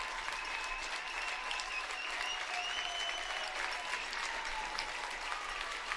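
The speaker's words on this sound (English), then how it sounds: "And the crowd is going bonkers." A crowd at a girls' high school basketball game applauds and cheers steadily, a dense, continuous roar of clapping and shouting heard at a moderate level throughout.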